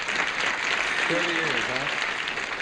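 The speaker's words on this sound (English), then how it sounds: "I don't know if that applause is for Lynn Moody or for 30 years" Studio audience applause, a steady broadband wash lasting the whole stretch, with someone talking over it briefly midway.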